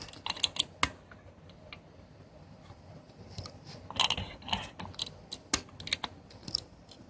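Keys on a computer keyboard tapped in short uneven bursts, close and fairly quiet, with sharper single strikes standing out over a low background hiss.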